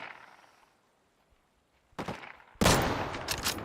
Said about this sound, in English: These bozos who can just tank Mosin shots